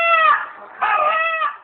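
A local rooster crows twice in clear, loud, nearby calls, with no one talking.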